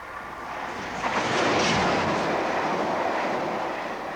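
A train rumbles steadily along the rails while crossing Chat Moss marsh near Manchester, a broad continuous roar swelling slightly in the middle, close and loud with no voices.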